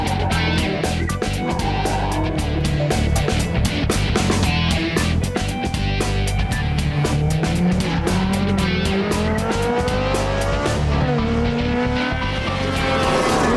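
A Ferrari 360 slides with loud, sustained tire squeal over a steady, close engine roar, its pitch wavering and climbing as the car drifts without interruption.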